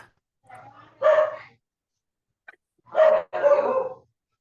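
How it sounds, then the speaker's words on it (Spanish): A dog barks close by in a few separate bursts, with quiet pauses between them. "hay por ahí unos ladridos de perro"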